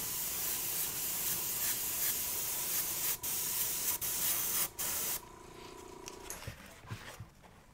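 Airbrush spraying Alpha acrylic paint onto an Air Force 1 sneaker, a steady close hiss broken by a few brief stops before the spray cuts out, leaving quieter handling noises.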